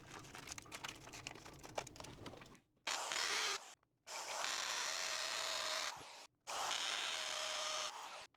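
Power drill boring into a wall through a masking-tape dust dam, heard as three sustained loud bursts of drilling separated by short pauses, after a stretch of rustling handling noise.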